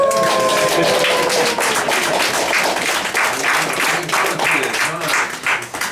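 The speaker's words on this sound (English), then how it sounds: "How about another round of applause?" Audience applause at a town council meeting, dense continuous clapping that fills the room, with a brief tonal whine at the start and a few voices mixed in.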